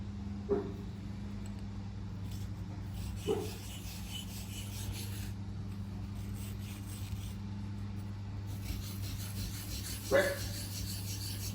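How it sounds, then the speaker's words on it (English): A hand file scrapes a burr off a machined part for a Vevor MX 400 mini lathe, giving a few brief, spaced rasping strokes over a steady low workshop hum. "I'm just trying to take that burr off."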